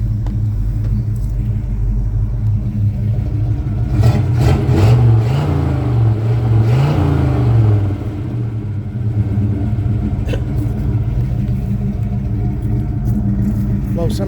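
A 1984 Chevy C10 pickup engine running steadily at close range, a low continuous rumble that swells briefly as it revs, with voices talking over it.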